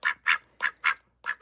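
Six quick, loud quacks from a pet duck come in a close, lively run with brief gaps between them, heard alone and near.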